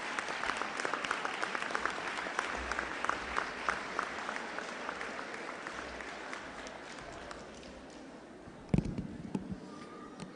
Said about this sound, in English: Another round of applause for our guest speaker, Her Excellency Judith Slater